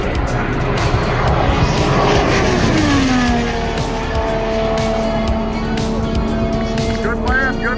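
An IndyCar screams past during an Indy 500 qualifying lap, its engine note loud and close before dropping sharply in pitch as it passes and fades down the straight, with excited spectator voices underneath.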